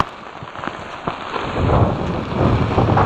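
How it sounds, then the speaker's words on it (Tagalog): Heavy typhoon rain in Teresa, Rizal pours steadily, growing louder and denser after the first second, with a constant rushing hiss and occasional gusts buffeting the microphone. "lakas ng tubig, lakas ng ulan"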